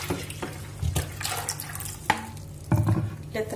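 Water poured into a bowl for a chicken marinade, a close splashing pour with clinks and bumps against the container in short bursts, with a brief gurgling stretch near the end.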